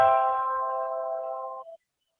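Electronic keyboard notes held with the sustain pedal, a single soft chord ringing steadily for over a second and a half before cutting out, heard alone and fairly quiet.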